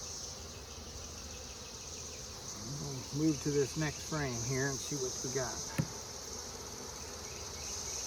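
Honeybees in a Layens hive during a frame inspection, a steady buzzing hum running throughout while someone talks over it briefly in the middle.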